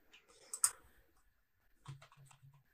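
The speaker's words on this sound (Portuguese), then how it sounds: "Não, vou escrever utilizando o teclado mesmo." Typing on a computer keyboard at a desk, a few soft scattered key clicks and taps with quiet pauses between, close and faint.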